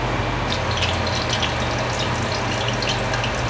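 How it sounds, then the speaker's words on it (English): Tofu pockets deep frying in shallow oil give off a steady, dense sizzle and crackle, close and continuous throughout with no talking. "Didn't put too much oil, but ooh, it is crisping up beautifully."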